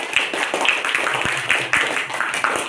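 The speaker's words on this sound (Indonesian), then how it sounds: "Bagus sekali tepuk tangan." Clapping from a classroom of students fills the moment, a dense patter of many hands sustained and fairly close.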